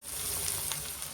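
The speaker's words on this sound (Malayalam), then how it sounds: "നല്ലോണം ഒന്ന് മൂപ്പിച്ച് പോരണം." Prawns frying hard in hot oil for pickle, a dense continuous sizzle held close and even for a brief moment, with no talking.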